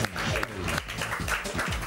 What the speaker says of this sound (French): Sous vos applaudissements, Élise qui nous vient de l'agence de mannequins Métropolitane.